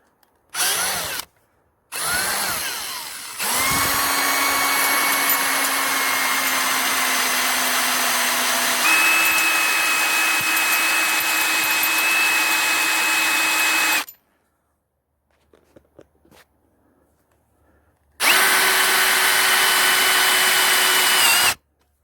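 A cordless screwdriver driving a screw whines in several bursts, with short starts and then a long steady run that shifts pitch midway, followed by silence and a final burst.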